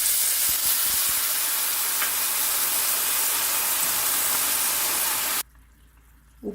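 A loud, continuous hissing sizzle as tamarind water meets a hot pan of fried spices, holding steady for several seconds before cutting off abruptly to near silence.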